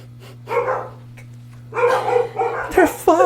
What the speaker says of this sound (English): The dogs are here. We gotta go. It's the junkyard dogs.